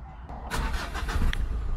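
A car engine cranks and catches, turning over with a rough, rising rumble that settles into a steady running hum.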